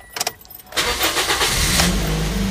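A car engine cranks briefly and fires up with the clutch pressed and the gearbox in second, after a sticky clutch from driving through floodwater, then settles into a loud, steady idle close by.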